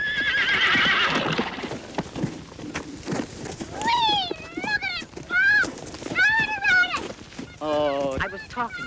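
A horse neighs repeatedly, several loud whinnies rising and falling through the middle and end, on a farm amid people talking and shouting nearby.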